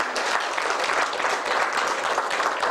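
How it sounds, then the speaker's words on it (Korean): A congregation applauds in a church after a sermon, a short burst of dense, even clapping at moderate volume, heard alone. "박수 한번 하겠습니다."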